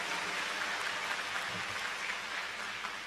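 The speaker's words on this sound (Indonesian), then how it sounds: "Boleh tepuk tangan buat Anda semua." Dense, steady applause from a large crowd of new students at a university orientation welcome ceremony, a continuous wash of many hands clapping at even loudness throughout, with no voices heard over it.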